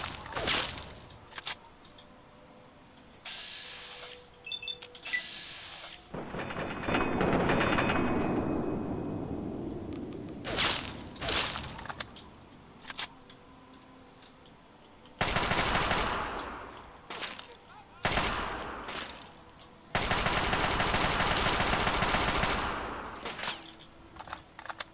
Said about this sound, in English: combat shotgun.